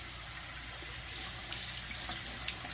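Rice being rinsed under running tap water in a home kitchen, a steady hiss of flowing water with soft splashing that rises slightly midway and gives one small clink near the end.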